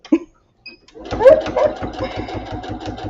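A sewing machine stitches a zipper, starting after a short pause and running in a quick, even mechanical rhythm at close range. A brief voice comes before it.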